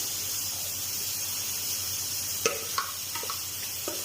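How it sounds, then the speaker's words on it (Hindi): Steady hiss of chopped onion sizzling in hot oil, with a few sharp pops and clatters from stirring toward the end. "ऑयल हमारा गर्म हो चुका है तो अभी हम इसमें डालेंगे चॉप किया हुआ प्याज"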